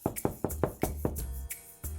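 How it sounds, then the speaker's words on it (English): Knuckles rapping on a cottage door in a children's story, a quick series of sharp, close knocks followed by a pause and one more rap. "The hungry wolf knocked on the door."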